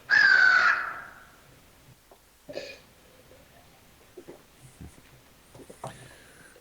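A crow gives one loud, harsh caw up close, followed by quieter scattered rustles and small noises with faint sounds in the background.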